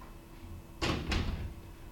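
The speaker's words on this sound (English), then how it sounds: "close the door real quick." A door swings shut indoors, two quick knocking thuds close together in an otherwise quiet room, brief and moderately loud.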